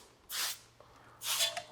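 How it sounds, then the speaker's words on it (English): Two short hissing bursts of a spray bottle of gel car-wheel cleaner onto a rim, the second longer, with a quiet pause between them. "shake up the MVC a little bit and then spray"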